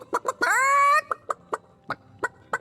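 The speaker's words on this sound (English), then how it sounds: "Why did you let my chicken escape?" A chicken in the fantasy role-playing game Divinity: Original Sin clucks in a quick run of short, close clucks with one drawn-out squawk near the start, heard alone without talk.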